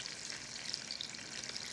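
Bread frying in a pan gives a steady, bright sizzle with constant crackle, even in level and uninterrupted throughout.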